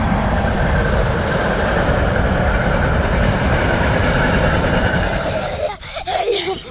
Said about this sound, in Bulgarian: Влак.